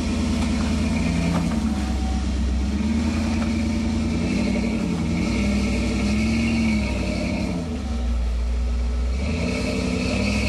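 A Ford Bronco off-road vehicle climbs over big rocks, its engine droning loud and continuous with steady revving and slight rises and dips in pitch, close up and uninterrupted throughout.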